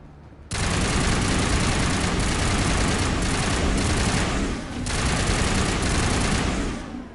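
A gun fires in sustained rapid bursts during Mass Effect Legacy combat, loud and close. It starts abruptly after a quiet moment, runs nearly continuously and dips briefly before resuming.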